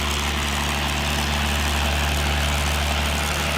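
A P-51 Mustang fighter's piston engine runs up toward 2300 RPM, producing a loud, steady, deep droning roar with a propeller throb that holds constant throughout, with no voices.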